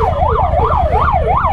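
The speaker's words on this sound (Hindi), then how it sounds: "एम्बुलेंस है सर" An ambulance siren wailing in Indian city traffic, close and loud, its pitch sweeping up and down in a fast repeating yelp over low road and engine rumble.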